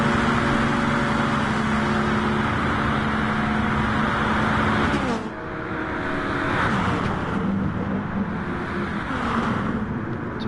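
Race car engines roar loudly in Gran Turismo as a Pagani passes another car on the slipstream, a sustained high engine whine that dips sharply midway as one car goes by, then builds again.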